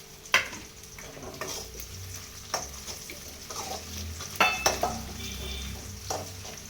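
Onions sautéing in a pan for a Tamil-style fish curry: a low steady sizzle broken by several sharp scrapes and clinks of a spoon against the pan, close and fairly quiet, with no talk.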